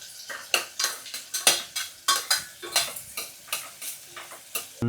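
Onions frying in oil over a high flame are stirred briskly, each scrape of the spoon against the pan making a sharp rhythmic stroke over a soft sizzle, about a dozen strokes in quick succession.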